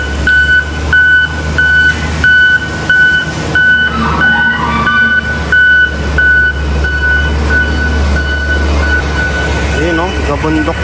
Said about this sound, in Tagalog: At yung maghahakot po, ayun, yung truck na yun.